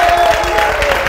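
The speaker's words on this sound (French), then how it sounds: "On les applaudit, s'il vous plaît." Brief burst of TV studio audience clapping, loud and close, with music playing underneath.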